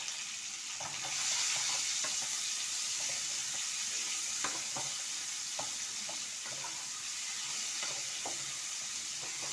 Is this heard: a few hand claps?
no